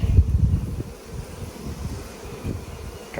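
Honey bees buzzing around open hives during a nectar dearth, trying to rob; a steady close drone of many insects with gusty low rumble early on, no talk.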